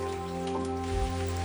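Rain falls on a window pane in a soft, continuous patter beneath a steady tonal background, with no voices.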